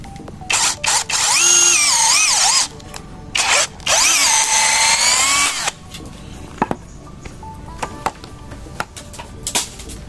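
A cordless drill whines loudly in bursts, pitch bending as it bites into the hard steel of a transformer, then stops, leaving faint clicks and handling noises.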